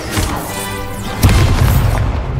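Incendio fire spell cast in the Hogwarts Legacy video game, a loud whooshing burst with a booming thump about halfway through, then a sustained roaring rumble, close and dominant.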